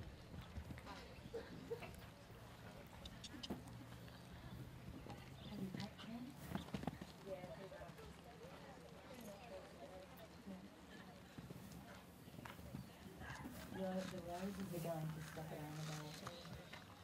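Horse hooves clip-clop on the ground at a cross-country eventing competition, a steady rhythmic patter of footfalls amid busy crowd noise and background chatter.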